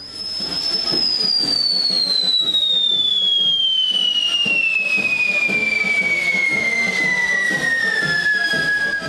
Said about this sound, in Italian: I personaggi ricoperti da vari petardi, mortaretti e cariche esplosive danzano al suono della musica